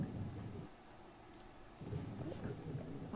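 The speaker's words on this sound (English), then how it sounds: "Thunder." Thunder in the video game Twelve Minutes: a quiet, low rumble rolls through a rainy backdrop, fading briefly and then swelling again, soft and distant.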